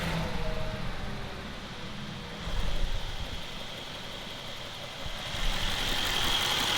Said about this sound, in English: The engine was running so smooth.